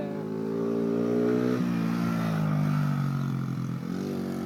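A dirt bike engine revs close by for several seconds with a loud, steady buzzing drone that dips and rises in pitch partway through.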